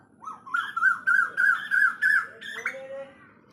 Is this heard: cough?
no